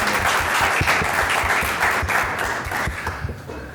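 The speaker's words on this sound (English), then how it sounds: "please give another round of applause" An audience claps steadily in a hall after a presentation, a dense, sustained round of applause that gradually thins toward the end.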